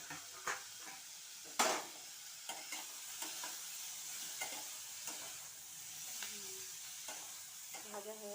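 Baby tomato chutney frying in a pan, a soft continuous sizzle broken by occasional utensil clicks and scrapes against the pan, with no talking.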